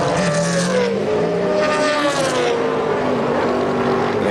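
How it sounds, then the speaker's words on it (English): A Trans Am race car on BFGoodrich tires roars out of the pits at a 2001 vintage race in Portland, its engine revving hard and close in a loud, sustained pull with rising and falling pitch. "He revved the motor up,"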